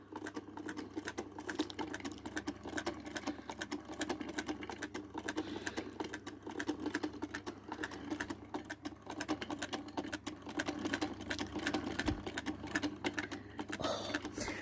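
Vintage Singer 99K manual sewing machine running steadily and alone, with a dense, even clatter of rapid stitching that continues at constant loudness throughout.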